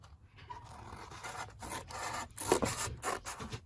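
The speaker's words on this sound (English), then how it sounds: "Cut along the ruler line with scissors." Scissors cut along a ruler line through craft material for a hanging organizer, producing close, faint rasping snips and rubbing strokes in uneven bursts, with no speech.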